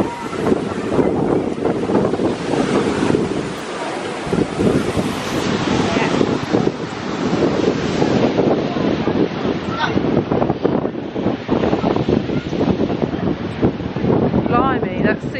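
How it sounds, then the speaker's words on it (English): Choppy sea with big waves churns at a pier on a windy beach, while loud gusts buffet the microphone in a constant roar, with a person talking over it. "Blimey, that sea is choppy. Wow. Look at it. Big waves."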